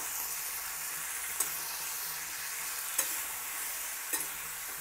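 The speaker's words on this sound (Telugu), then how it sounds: "వేసి ఇప్పుడు కలుపుదాము." Tomato chutney with jaggery and salt sizzles gently in a pan. A steady low hiss runs throughout, and a spoon scrapes the pan three times at regular intervals.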